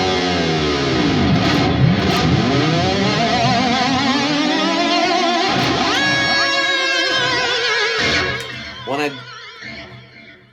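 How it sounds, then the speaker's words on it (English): Loud, heavily distorted electric guitar playing a single-string note without a whammy bar, sliding and bending in a wavering, squealing sweep with a high harmonic near the end before fading out. "So without the whammy, it would sound like this with one string."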